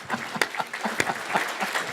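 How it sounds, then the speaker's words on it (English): Audience clapping at a bank's annual meeting held at a university, a lively round of many hands with a few sharper individual claps standing out, moderately close. "Let's give them a round of applause."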